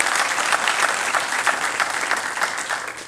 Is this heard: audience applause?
yes